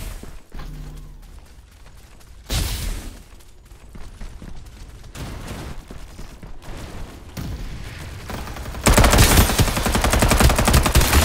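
Rapid automatic gunfire in the Farlight 84 battle royale game, bursts of loud close shots that give way to a sustained, dense stream of fire near the end, with no talk.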